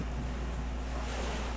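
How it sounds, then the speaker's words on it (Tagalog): Steady wash of waves on Malaboracay beach, Malamawi Island, Basilan, heard as a continuous surf rush mixed with heavy wind noise on the microphone. "Ito nga pala ang beach nila na Malaboracay dito sa Malamawi Island."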